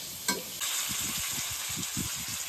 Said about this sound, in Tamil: இப்போ வந்து குழம்பு தாளிக்க போகிறேன்.